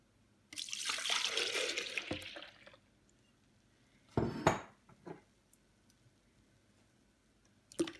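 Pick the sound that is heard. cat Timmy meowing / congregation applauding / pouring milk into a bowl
pouring milk into a bowl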